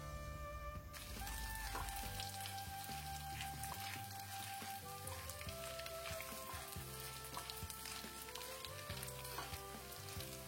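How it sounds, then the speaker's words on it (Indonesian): Anchovies frying in hot cooking oil until browned, a steady close sizzle with occasional stirring, played under soft background music. "Goreng teri terlebih dahulu sampai matang, sampai kecoklatan."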